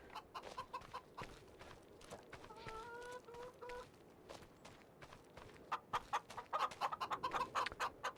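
Chickens clucking on a farm, close and fairly faint, in short bursts with brief calls and some shuffling or footsteps between them.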